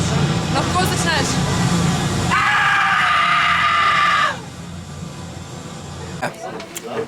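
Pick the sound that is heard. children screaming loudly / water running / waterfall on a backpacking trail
children screaming loudly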